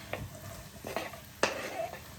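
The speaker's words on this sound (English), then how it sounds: "I'm just going to add onions in there." Onions sizzle and crackle steadily in hot oil while a utensil stirs and scrapes through the pan in a few quick strokes, close and moderately loud.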